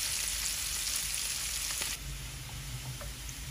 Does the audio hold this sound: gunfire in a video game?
no